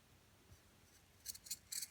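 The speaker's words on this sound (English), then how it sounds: "The next thing we need to do is cut off the toe." Scissors snipping through the toe of a sock, three or four quick, close, crisp cuts near the end after a quiet start.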